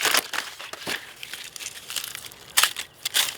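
Harakeke flax leaves being cut on an angle in a midwinter bush, giving a string of crisp crinkling snips and rustles of fibrous leaf, close and fairly loud with brief pauses between cuts.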